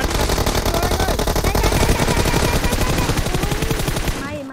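Sustained automatic gunfire in PUBG Mobile rattles in dense, rapid bursts, loud and close throughout, fading out at the very end.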